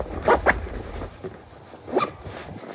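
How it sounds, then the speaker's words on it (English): A zipper on the pocket of a TREW Trillium women's jacket is pulled in quick short rasps, two close together then another after a pause, faint and close against quiet room noise. "And then it just has like a normal zipper with a fold over flap."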